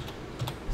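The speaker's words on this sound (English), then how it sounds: "I'm going to just type in" Brief typing on a computer keyboard: a few quick, soft key clicks up close, without any speech.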